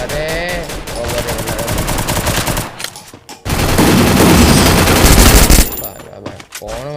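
An Uzi submachine gun fires in a video game, rapid loud bursts with a brief pause in between, close and dominant, with little talk beneath.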